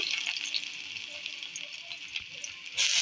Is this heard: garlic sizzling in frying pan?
yes